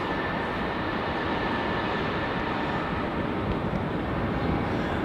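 A Vietnam Airlines airliner takes off at Melbourne Airport, heard as a loud, steady, broad jet roar that holds constant throughout without any talking.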